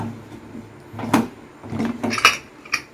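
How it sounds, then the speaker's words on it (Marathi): A pressure cooker lid being opened after prawn rice has finished cooking, a few close metallic clanks and scrapes with a brief hiss of released air, no talk. "आता आपण कुकर खोलतोय"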